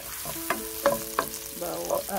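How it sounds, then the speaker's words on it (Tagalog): Onion is sautéed in a pan until it browns for Filipino pancit canton, giving a close, steady sizzle with several quick stirring scrapes. "Gisa-gisahin natin hanggang maging brown bago natin isunod yung bawang"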